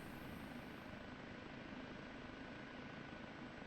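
OH-58D Kiowa Warrior helicopter in DCS World, its steady rotor and turbine drone filling the scene at a constant close level, continuous with no break and no voices.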